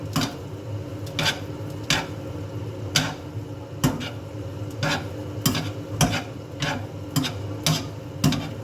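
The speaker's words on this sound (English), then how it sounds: "Now you toss it too quick" Carbonara pasta with scrambled egg tossed in a frying pan, a quiet sizzle broken by regular sharp clacks and scrapes of the pan roughly once a second, with no talking.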